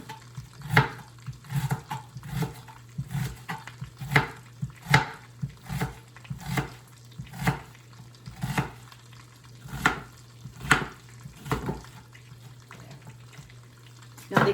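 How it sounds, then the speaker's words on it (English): Kitchen knife thinly slicing an onion on a cutting board, the blade landing in a steady run of crisp, evenly spaced chops, close and clear with no talking. "And then just very thinly slice."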